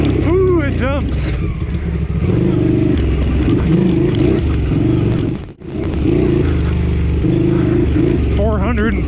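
A Honda CX500 shaft-drive street motorcycle rides a harescramble dirt course, its engine droning loud and close throughout with shifting revs and a brief cut midway, while a rider's voice talks over it.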